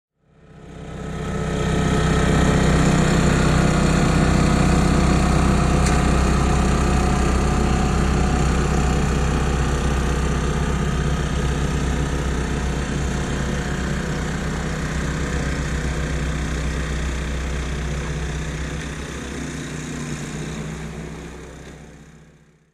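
A Yamaha YT660 tracked snow blower engine runs steadily and loudly up close, a continuous mid-pitched droning hum that holds level for over twenty seconds with no talk.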